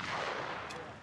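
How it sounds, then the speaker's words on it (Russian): A single shotgun blast at a trap shooting competition booms and rolls off into a fading echo, sharp at first then decaying over about a second. "Удачный, очень хороший выстрел."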